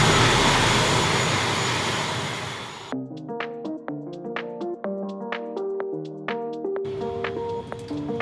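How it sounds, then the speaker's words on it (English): A loud, steady engine roar from a small propeller plane in the Philippines fades out, then a melodic run of plucked or chiming notes takes over. "it's actually got propellers on the plane"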